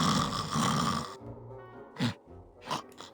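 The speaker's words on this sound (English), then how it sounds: "Sound effects, that snoring seems a bit crazy." Loud cartoonish snoring sound effect from the Grim Fandango video game: a long rasping inhale, then a pause and a couple of shorter snorting breaths.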